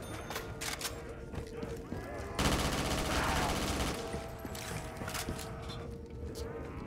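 Rapid AK rifle fire in Call of Duty custom zombies mode, a dense burst of automatic shots in the middle with scattered shots and game effects around it, while a player talks over it.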